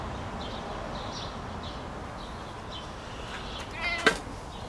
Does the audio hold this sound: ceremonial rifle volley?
no